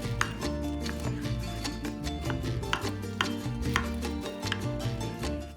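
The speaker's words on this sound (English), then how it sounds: "Cut a slice." A knife cuts a slice from a baked spinach pie, giving a series of crisp, close cutting knocks against a dish or board in an irregular rhythm.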